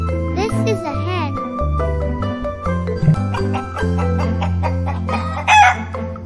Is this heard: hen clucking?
yes